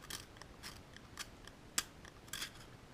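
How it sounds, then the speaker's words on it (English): A colored pencil is twisted gently in small motions inside a handheld pencil sharpener, giving a series of soft, close scraping and shaving bursts at irregular intervals, with one sharper snap midway. "hold your fingers up nice and close to the pencil sharpener and twist really gently in small little motions"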